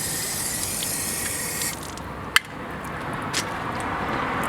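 Tap water runs steadily out of a hose, a continuous close hiss and gush with a brief sharp knock partway through.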